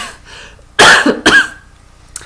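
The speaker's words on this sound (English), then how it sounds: "So I hope I won't be coughing too much." Two sharp coughs in quick succession from a nearby person, followed by a faint short throat sound, with no talking.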